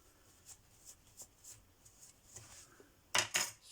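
Scissors snipping through fabric while crafting a fabric shaker tag, a series of soft, quiet cuts at a steady pace, ending in a couple of louder, sharper snips close by.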